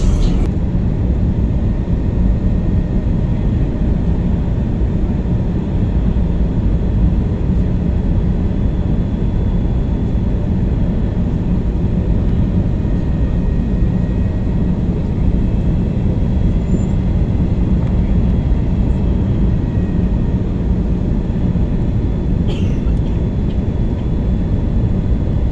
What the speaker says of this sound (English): naririnig na natin yung kalampag ng gulong. Parang binababa na ng piloto natin.